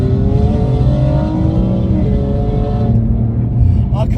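A BMW M car fitted with a Milltek OPF-back exhaust system, giving a loud, close engine drone with rising revs throughout.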